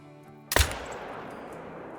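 A single loud rifle shot fired at a buck while hunting in Call of the Wild cracks sharply after a quiet moment, then trails off in a long, fading echo.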